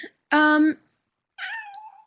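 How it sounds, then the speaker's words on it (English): Two separate cat meows close by: a loud, drawn-out one, then a softer, wavering one after a brief pause. "I'm sorry if you hear my cat meowing"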